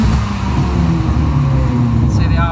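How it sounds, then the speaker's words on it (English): An Abarth 595 engine with anti-lag revs in sport mode while building turbo boost, a loud, steady engine drone held up close for a few seconds. "I'm doing some testing with the anti-lag system, so we're just going to turn sport mode on"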